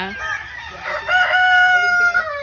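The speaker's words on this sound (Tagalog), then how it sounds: "Isa-isahin mo pa yung mga panabong?" A fighting rooster crows loudly and close by, one drawn-out cock-a-doodle-doo lasting about two seconds, with a little background farmyard noise.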